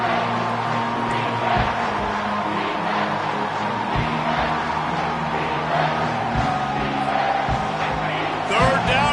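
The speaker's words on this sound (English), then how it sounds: "This crowd is tearing the lid off this place." A college football stadium crowd at a Michigan vs Oregon game sends up a loud, sustained roar and cheering, with a few thuds and brief squeaks within the continuous din.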